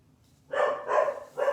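A dog barks indoors nearby, giving three sharp, mid-pitched barks with short pauses between them.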